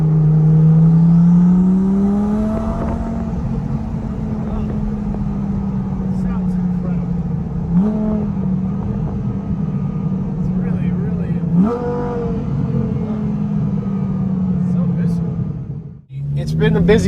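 A BoostLogic twin-turbo Gen II Audi R8 accelerates hard in a long pull, the engine droning and climbing in pitch through several gear changes, loud and close from inside the car.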